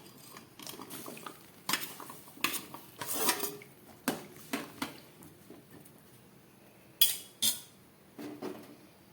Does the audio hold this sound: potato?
yes